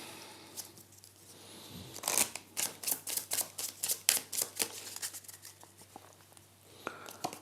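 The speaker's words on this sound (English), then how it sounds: "And now last turn, let's shuffle these cards." A deck of cards for the board game Evergreen being shuffled, a rapid run of crisp riffling snaps and flutters lasting several seconds, close and clear with no talking.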